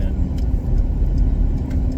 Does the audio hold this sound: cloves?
no